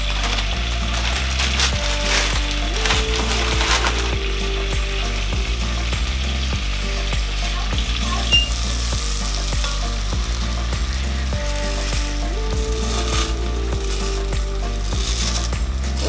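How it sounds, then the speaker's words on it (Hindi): Vermicelli frying in a pan with cardamom for sheer khurma, a steady sizzle under repeated rhythmic scraping and clacking of a spoon stirring close by, no voices. "अब हम लोग डालने लगे हैं सेवइयाँ"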